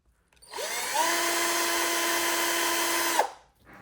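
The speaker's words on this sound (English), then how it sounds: "You probably want to drill the holes slightly bigger so that these things will fit through" A power drill whirs steadily for a few seconds, boring holes in small robot finger parts: a loud, close, sustained whine that starts up, holds, and stops abruptly.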